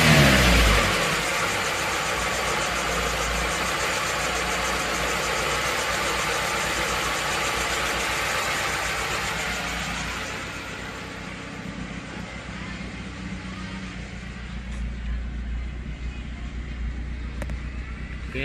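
A car engine runs steadily during carburetor adjustment, holding a loud rev that drops after about ten seconds to a lower, rougher idle, close and continuous.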